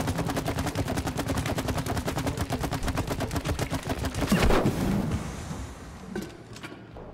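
Rapid automatic gunfire from the co-op video game It Takes Two rattles in a long even burst for several seconds, then breaks into scattered shots and impacts before fading.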